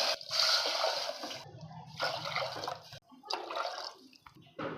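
Water splashes and pours into a pan in several bursts with short pauses between, close by and fairly loud, while making rava pongal.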